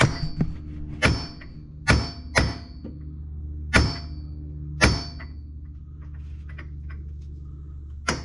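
A hammer pounds a part back into a Turbo R front prop shaft during carrier bearing repairs, giving six sharp metallic strikes at irregular intervals, close and loud over a low engine-like hum.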